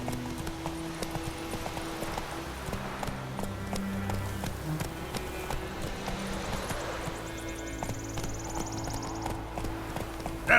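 Roach, Geralt's horse in The Witcher 3, gallops steadily with rapid rhythmic clip-clop hoofbeats over a continuous game music and ambience bed, close and fairly loud throughout, with no talk.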